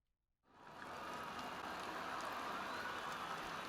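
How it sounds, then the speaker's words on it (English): Rain falls during a race in the F1 2020 video game, a dense steady hiss that fades in after a brief silence and then holds at an even level throughout. "it's raining"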